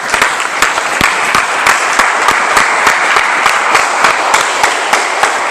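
Church congregation applauding loudly and steadily during a sermon, a dense wash of clapping with a few sharper individual claps standing out throughout.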